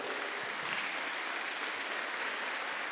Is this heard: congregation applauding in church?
yes